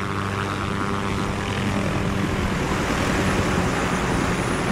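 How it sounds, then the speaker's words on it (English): Steady, loud droning of helicopter rotors and engines in the video game Call of Duty: Modern Warfare (2019), a continuous whirring roar that holds evenly throughout. "Barkov is sending in helicopters."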